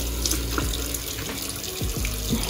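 A hotel bathroom tap runs steadily into a sink, a close, continuous splashing stream that holds throughout without any talk.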